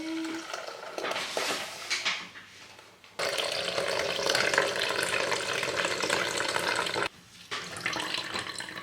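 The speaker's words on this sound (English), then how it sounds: "The next step is to strain it through a cloth. I just have a milk cheese cloth here. And we're just gonna sieve it." Homemade pistachio milk strained through a cheesecloth: steady close liquid trickling and splashing with light handling noises, a brief pause, then more pouring.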